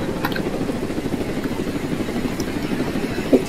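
A drone flying in the Roblox game Jailbreak gives a steady, buzzing rotor drone that holds evenly throughout with no voices over it.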